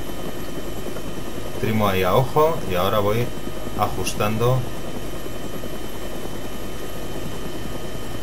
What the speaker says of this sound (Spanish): a tratar de estabilizar el helicóptero y hacer un hover